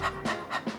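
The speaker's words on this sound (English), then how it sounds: "Doing hissing or doing panting, this doesn't seem fun." A person pants rhythmically as a singing breath exercise, four quick breathy huffs in and out, close and fairly soft, with no talk.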